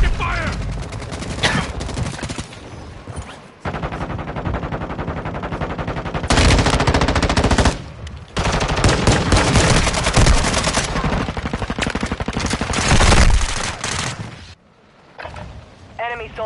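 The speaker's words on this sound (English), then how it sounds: "Taking effective fire!" Bursts of rapid automatic gunfire and explosive shots from the Call of Duty: Warzone video game come loud and dense, broken by short pauses, with mechanical clanks and game voice lines mixed in.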